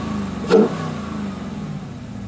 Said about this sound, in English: I'll show you how the cold air intake sounds.